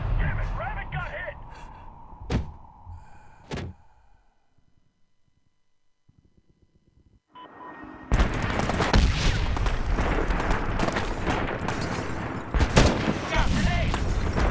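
Medal of Honor combat brings close bursts of gunfire, including sniper rifles, with sharp single shots early. A near-silent lull follows, then dense, continuous firing fills the rest.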